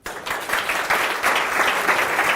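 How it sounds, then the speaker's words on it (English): A large audience at a talk gives a massive round of applause, dense crowd clapping swelling in quickly and holding steady and loud throughout. "please join me in a massive round of applause for Aaron Dignan"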